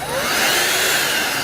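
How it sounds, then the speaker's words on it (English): A DeWALT DWV012 10-gallon dust extractor switches on when a drill trigger is pulled and gives a loud, steady vacuum whoosh with a faint rising whine, close by and with no voices. "the extractor will come on and run for a few seconds past when you release it"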